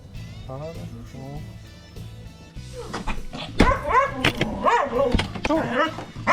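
A dog barks and yelps excitedly among people talking nearby, the barking growing louder and more frequent partway through.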